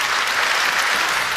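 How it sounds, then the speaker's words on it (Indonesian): A studio audience at an Indonesian television talk show breaks into dense, loud, continuous applause, with no voices over it. "tepuk tangan sekali lagi dong"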